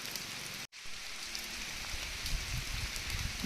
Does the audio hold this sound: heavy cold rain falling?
yes